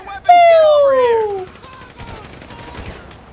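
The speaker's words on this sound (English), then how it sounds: "Shoot him, shoot him, shoot him!" Gunfire in the video game GTA V: a sharp burst of shots at the start with a falling whistle-like tone, then fading scattered noise, under excited shouting and game chatter.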